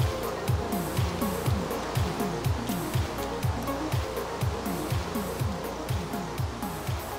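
Ocean waves heard while sailing a boat in a video game, a continuous wash of surf with a quick, regular rhythmic pulse running throughout, steady and moderately loud.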